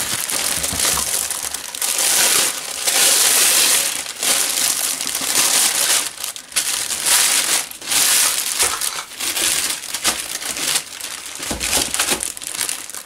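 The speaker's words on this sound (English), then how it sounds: "I'm going to take this tablecloth and I'm going to fold it out" A large plastic tablecloth is unfolded and spread out for acrylic pouring, giving close, loud crinkling and crackling in bursts with short pauses between handlings.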